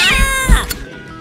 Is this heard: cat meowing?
yes